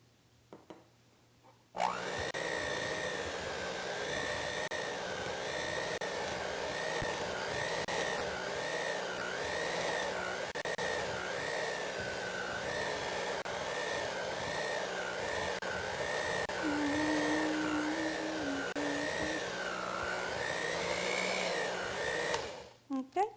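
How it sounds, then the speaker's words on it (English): Oatmeal being mixed into egg-free maple cookie dough with an electric mixer, a continuous close motor whir with wavering pitch as the beaters work the thick dough, running steadily for about twenty seconds before stopping. "And now we're going to mix the oatmeal."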